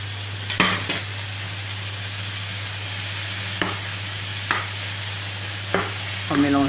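Shrimp and vegetables sizzle in a wok under a steady frying hiss, with a few distinct stirring scrapes of a utensil against the metal at intervals.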